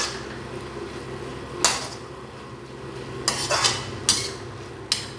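A cluster bean (guar phali) curry with spices being stirred in a pan. A low simmering sizzle runs throughout, and a spoon scrapes and clinks against the metal in several short, close bursts, with no talking.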